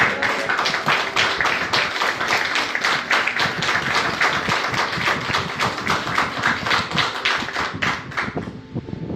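A church congregation claps rapidly and continuously, many hands forming a dense, rhythmic patter that fades slightly near the end.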